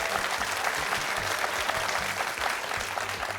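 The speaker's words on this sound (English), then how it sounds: "Nice round of applause, BU Academy." Sustained applause from a studio audience at a high school quiz show, steady and dense clapping filling the room for the whole stretch.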